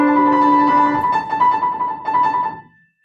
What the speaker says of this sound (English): The trill sounds like this.